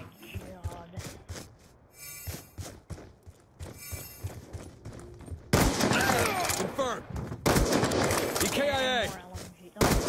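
Rapid gunfire in a Black Ops 2 multiplayer kill race, dense bursts of automatic shots and overlapping fire, loud and close, with quieter stretches of game sounds in between and occasional talk.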